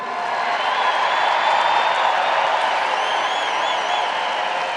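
A large rally crowd applauds and cheers steadily at an election campaign event, a dense, loud wash of clapping with scattered whoops and whistles that holds without a break throughout.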